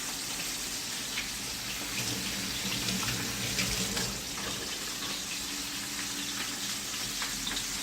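Chicken pieces fry skin side down in a pan, giving a steady, dense sizzle that holds evenly throughout with no talking.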